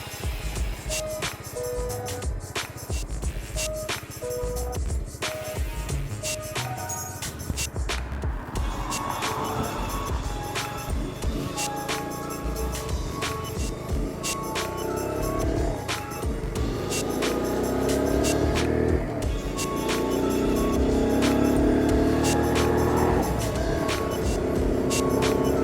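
A Kawasaki Z125 motorcycle cruising in 4th gear, its engine a steady mid-pitched drone mixed with wind and road noise, growing gradually louder toward the end.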